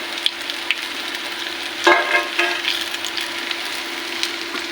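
Cauliflower pakoras deep fry in oil with a steady, moderate bubbling sizzle, broken by a few light clicks and one sharper clatter of a utensil.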